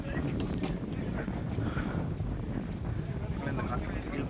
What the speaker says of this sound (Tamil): இந்த காற்று ஃபீல் பண்ணலாம்.